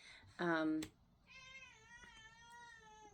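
A house cat gives one loud, close, drawn-out meow, followed by a softer, longer whining mew with a wavering pitch, in a quiet room.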